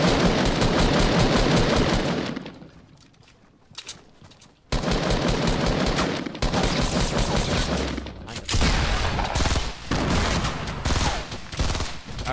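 Rapid automatic gunfire in a Fortnite match, loud dense bursts that break off for a couple of seconds, then resume in long sustained volleys with more shots layered in.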